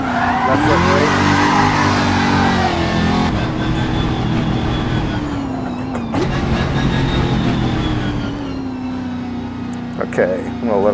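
Tires squeal steadily as a car drifts with e-brake initiation in the racing game Assetto Corsa, the engine droning under the screech for the whole stretch, loud and continuous with slight pitch shifts.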